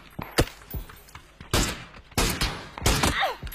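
Gunfire in a multiplayer shooter video game: several sharp, loud bursts of shots in quick succession, with brief gaps between volleys.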